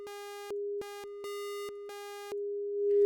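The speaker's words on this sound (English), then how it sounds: "there is a slight popping sound every time you change the oscillator" A Max/MSP software oscillator switching between waveforms, plain electronic tones at one steady pitch changing timbre in short segments, with slight clicks or pops at each switch.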